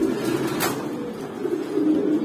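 Kaldom pigeon pairs coo at a farm, a soft low repeated cooing murmur close by with a brief rustle partway through, no talking over it.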